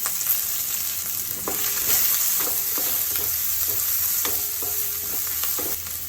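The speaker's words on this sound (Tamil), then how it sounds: "வெங்காயம் நல்லா வதங்கட்டும்" Onion and green chillies sizzle steadily in a pan, a continuous hiss of frying with occasional soft clinks of a spatula stirring, no voices.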